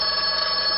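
An old-fashioned telephone rings in an employment agency office, one continuous bright electronic trill held steadily from start to finish.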